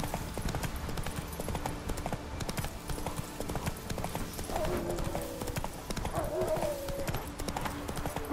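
Horse hooves clip-clop at a steady galloping rhythm in The Witcher 3, continuous and fairly close throughout, with a brief whinny-like tone partway and a faint voice in the mix.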